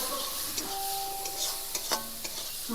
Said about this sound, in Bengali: গুলিয়ে রাখা মশলা দিয়ে ভালোভাবে এটা আমি কষিয়ে নেব